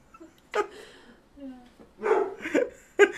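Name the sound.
dog whimpering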